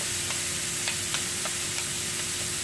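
Cauliflower and beef for a low-carb fried rice fry in a pan with a steady, even sizzle, broken by a handful of light, regular taps and scrapes as the mix is tossed. No voices.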